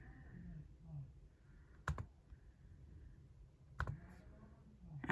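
Two sharp mouse clicks, about two seconds apart, placing points on an online math graph, crisp and close over a quiet room hum with no talking.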